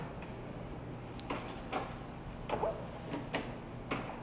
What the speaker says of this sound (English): Servo drive base cabinets, push to open, hidden drawers throughout